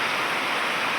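Rainwater flowing during a heavy night downpour in a Gujarat village: a constant broad rushing wash like running water mixed with rain, steady throughout.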